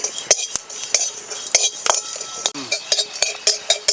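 A metal spoon scrapes and clinks against a wok while whole fennel, cumin and cardamom fry, sharp irregular taps and stirring knocks close by, with no talk.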